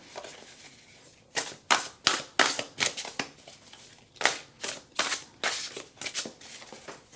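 Tarot cards shuffled by hand in a series of crisp riffling bursts, about a dozen quick flutters close to the microphone, separated by short pauses with no talking.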